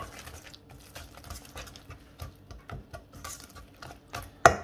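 Salt cod fritter batter with onion and parsley stirred in a bowl, with soft irregular scraping and tapping strokes and a louder clink near the end.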